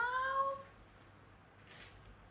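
Short meow from a kitten or cat indoors, a single rising-falling call in the first half second, then quiet room tone with a faint soft rustle.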